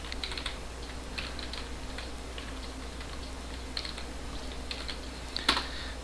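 Quiet typing of a password on a computer keyboard, scattered light key clicks in short bursts over a low hum, ending with one sharper tap near the close.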